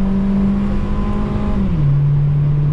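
Honda Fit with a sport exhaust pulls under acceleration on a road, a loud, steady engine drone close by. The pitch holds level, then drops slightly as it shifts, with no talking.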